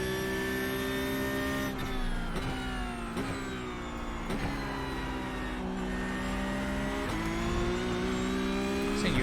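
A Porsche Cup car at Watkins Glen in iRacing revs loudly and continuously, its engine note climbing through the gears with sharp dips at each upshift, steady and close with no talk over it.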